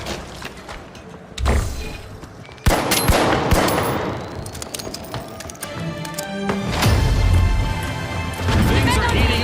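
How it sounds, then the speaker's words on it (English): Frag grenade thrown and exploding in the video game The Finals, two heavy booms amid bursts of gunfire and crashing debris during a cash-out match, loud and busy. "Tossing a frag. Throwing a frag!"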